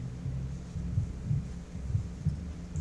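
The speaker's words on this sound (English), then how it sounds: "sound starts to fill your ears. Heartbeat." A steady, low heartbeat throbs through a tense tabletop role-playing scene, its soft paired thumps repeating at a slow, even pace over a faint droning hum, with no voices present.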